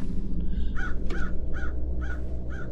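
A crow in a video game caws five times in a steady, evenly spaced series of harsh calls, moderately loud over a dense low background rumble.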